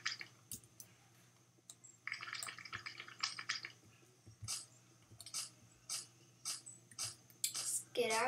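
Wolf drinking water in Wildlife Simulator, a string of wet lapping, dripping and splashing sounds in irregular bursts, fairly quiet, with a faint steady background hum.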